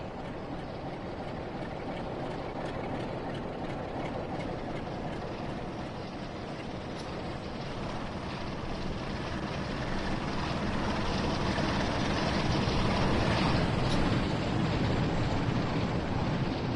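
A Class 47 diesel locomotive in Train Sim World 6 gives a loud, steady engine drone that builds gradually over the stretch, continuous and close, with no talk.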